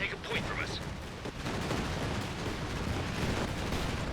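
Video game aircraft strafing run: a dense, rumbling rattle of rapid gunfire and impacts that continues for several seconds, with a voice faintly audible beneath.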